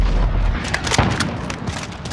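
Stun grenade detonating in a hardcore Domination match on the Crash map: a dense, booming blast with rumbling low end and scattered sharp cracks, loud and close, no talk over it.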